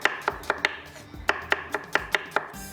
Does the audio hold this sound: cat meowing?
no